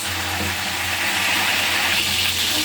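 Chicken pieces sizzle and crackle steadily in hot oil in a frying pan, a loud, dense hiss that carries on without a break.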